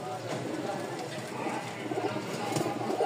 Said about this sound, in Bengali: এরকম সারাদিন ডাক নিতে চান যে ভাই আমার কাছে এক জোড়া কবুতর দিবেন, যেটা সারাদিন ডাকবে